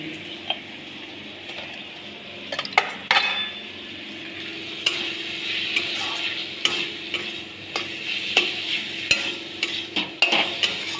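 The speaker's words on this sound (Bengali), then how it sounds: "এবার এটাকে ভালো করে কষাবো।" Spice masala stirred and sautéed in a pan: repeated sharp spatula scrapes and clicks, irregular but frequent, over a low sizzle close by.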